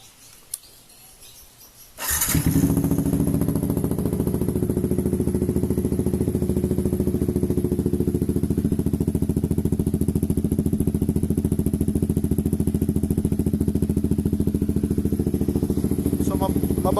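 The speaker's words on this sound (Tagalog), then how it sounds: "So pakinggan natin yung cold start" A Yamaha XSR 155 motorcycle fitted with an SC Project full exhaust, cold-started after two days parked. A brief quiet spell gives way to the engine catching and settling into a loud, steady, throbbing idle that holds for the rest of the clip.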